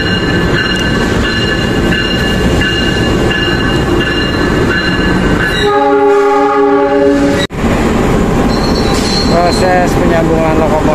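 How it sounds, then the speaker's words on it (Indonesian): A CC206 diesel locomotive couples onto the Pangrango passenger train consist at a Bogor station: steady loud rumble and wheel squeal, a brief tonal horn-like blast midway, then a sharp clank near the end amid background chatter. "Proses penyambungan lokomotif CC206 ke rangkaian Pangrango."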